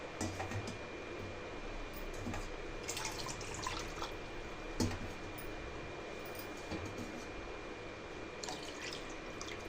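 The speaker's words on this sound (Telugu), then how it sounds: "ఏ కప్పుతో అయితే పిండి తీసుకున్నామో అదే కప్పుతో 3 కప్పుల వాటర్ని యాడ్ చేసుకోవాలండి" Water is poured and dripped in a home kitchen while making jowar roti, three cups going into a pot for boiling. The trickling and splashing stays light and intermittent, with a few sharper drips over a soft background hiss.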